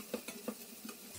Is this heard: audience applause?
no